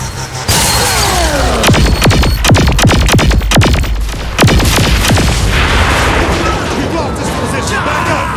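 Gunfire in the Saints Row IV video game on Nintendo Switch: a loud, steady run of sharp shots and booming blasts from start to end, under game talk.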